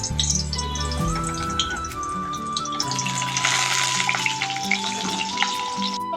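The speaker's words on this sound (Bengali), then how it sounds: "কড়াতে তেল গরম করেছি, এবার পটলগুলো ভেজে নেব।" Pointed gourds (potol) fry in hot oil in a wok, giving a dense, steady sizzle with crackling pops, close and continuous, while music plays underneath.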